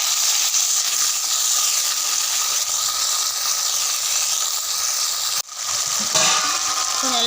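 Small onions, large onions, green chilli and tomato sauté in a clay pot over a wood-fired stove, giving a steady loud sizzle and hiss that briefly drops out near the end before resuming.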